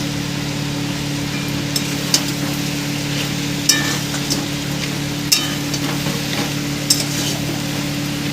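Fried bhetki fish bones are stirred into a cooked spice paste in a pan, giving a steady close sizzle under a low hum, with a spatula scraping and knocking at a few separate moments and no talk.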